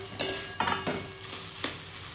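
Pumpkin being stirred and fried in a pan of oil: a few distinct scraping stirs rise over a low, steady sizzle, close by and with no voices.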